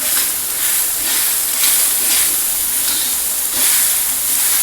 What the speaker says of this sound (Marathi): असं थोडं दाबून मिरच्या चांगल्या भाजून घ्यायच्या